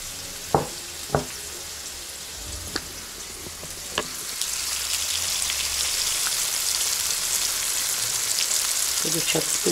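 Pike fish frying in a pan, with an even sizzle that grows louder and denser partway through and continues steadily, a few sharp clicks and knocks near the start, and brief voices near the end.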